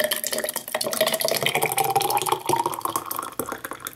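Liquid poured into a sterilized glass jar packed with tomato halves, a bright gurgling, trickling fill that rises in pitch as the jar fills, close and fairly loud, with no talking.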